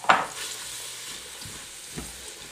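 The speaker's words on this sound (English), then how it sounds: "I'm going to saute this until the onions are soft and translucent." Finely chopped sweet yellow onions sauteing in melted butter in a pan, a soft steady sizzle with a few light stirring scrapes, quiet and close, with no voices.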